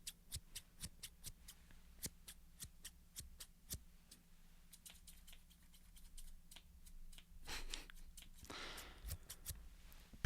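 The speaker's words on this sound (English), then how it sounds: "I really like these scissors because the cut sound or the slicing" Quiet, close snipping of scissors cutting gift wrap in a quick irregular rhythm, followed by a couple of soft paper rustles over a low steady hum.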